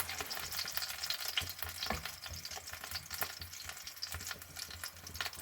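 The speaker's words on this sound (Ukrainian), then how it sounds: "Приблизно обсмажую курочку 10-15 хвилин" Steady crackling and sizzling of chicken legs frying in a hot pan, continuous and close, with occasional louder pops.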